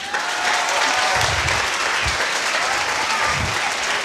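An audience at a stage performance applauds, a dense, steady burst of clapping from many hands filling the room, loud and sustained for a few seconds.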